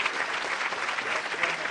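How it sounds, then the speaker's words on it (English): Steady, dense applause from a conference audience at CERN, continuous clapping at an even level throughout with no pauses. "can you give a big round of applause to our 4 speakers?"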